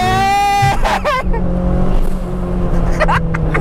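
A Mitsubishi Lancer Evo VI, a rally-bred car converted for the road, accelerates with a loud, close engine note climbing in pitch, then settles into a steady drone as short voices break in over it.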